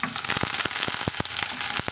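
Small onions and curry leaves frying in hot oil for a tamarind curry, giving a steady close sizzle with scattered sharp pops and crackles and no talking.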